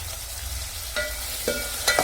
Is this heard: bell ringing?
no